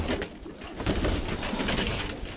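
Birmingham Roller pigeons cooing in a loft, soft repeated throaty coos close by over a steady rustling background of birds moving about.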